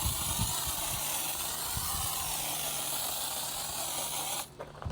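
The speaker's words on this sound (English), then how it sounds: "So go ahead and foam it back down." A foam sprayer with a precision tip mists wheel cleaner onto a car wheel, giving a steady close hiss for several seconds before it stops.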